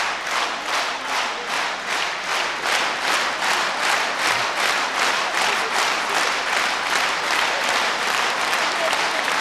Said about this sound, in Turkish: Ben Elmetin İbrahimov'un bu akşamda ifası gürültülü alkışlarla karşılandı.